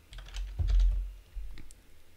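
Quick keystrokes tap on a computer keyboard in a short, uneven burst of clicks, close and fairly quiet, without speech.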